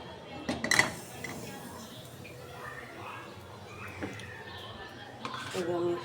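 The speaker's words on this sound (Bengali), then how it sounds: "কড়াইটা দিয়ে দেবো, মাছগুলো ভেজে নেব।" A wok and pans clatter on a home stove while fish is fried, a sharp metallic clank at the start followed by quieter knocks and scrapes, with soft background voices.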